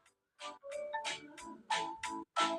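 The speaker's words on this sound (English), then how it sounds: "It goes on ringing." A phone ringtone plays a bright melodic sequence of tones in short bursts, close and clear with brief gaps between phrases and no talking.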